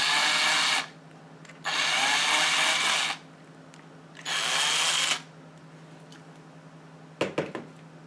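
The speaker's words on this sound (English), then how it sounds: "And then I have to drill a hole that's just a smidgen bigger than the diameter of this wire staple" A power drill bores a small hole for a wire staple during restoration of an 1899–1904 Standard treadle sewing machine, whining loud in three separate bursts of about a second or two each, then a few faint knocks.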